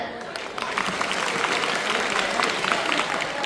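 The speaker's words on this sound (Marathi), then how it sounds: "जोरदार टाळ्यांचा गजर" An audience at a school cultural program claps loudly and steadily, a dense continuous wash of applause lasting the whole stretch without pause.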